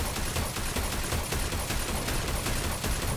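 Weapon fire in the mecha shooter game Super Mecha Champions, a dense unbroken burst of rapid shots and blasts that keeps going for the whole stretch at even loudness, with no talking over it.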